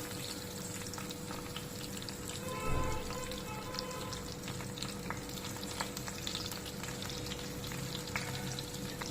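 Stuffed brinjals frying in about six tablespoons of oil in a covered pan, a steady close sizzle and crackle running throughout with a brief louder burst near the start.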